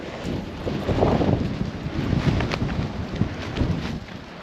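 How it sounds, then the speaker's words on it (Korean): Strong wind gusts across a snowy mountain campsite on Seonjaryeong, buffeting the microphone with loud, continuous roaring and rumbling that swells and eases in uneven waves. "바람이 너무 세가지고 고프로가 넘어가."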